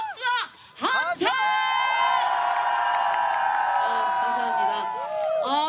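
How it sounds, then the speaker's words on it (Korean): A festival crowd at the Suncheon Hope Festival applauds and cheers loudly for a trot singer's performance, with shouts and whoops rising into a sustained roar of clapping and voices that carries on throughout. "정말 환영한다 싶으시면 다시 한번 박수와 함성!"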